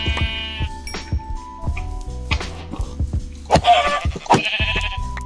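Sheep in a video game bleat several times in short, wavering cries, some overlapping, set among brief clicks and clinks of game sounds, close and fairly clear.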